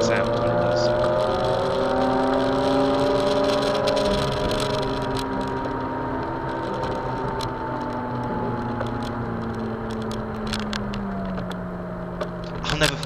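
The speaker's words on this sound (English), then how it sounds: "the engine rev all the way to the sky, it makes the most amazing sound when it does so" A Mazda RX-8 rotary engine screams loudly and continuously, pitch rising and falling as it is held near the top of its rev range, with faint talk underneath.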